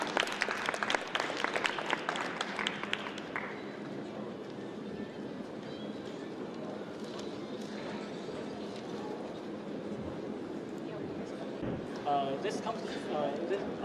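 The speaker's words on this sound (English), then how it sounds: "Let's clap our hands," An audience claps for the next speaker at a student project presentation. The clapping is dense and fairly loud for a few seconds, then fades into a murmuring room with voices.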